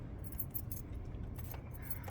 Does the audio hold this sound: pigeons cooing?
no